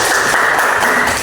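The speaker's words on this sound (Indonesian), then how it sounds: "Beri tepuk tangan Mbak Salwa." A short burst of loud, dense clapping from a class or group of students applauding Mbak Salwa in a teaching session, close and continuous.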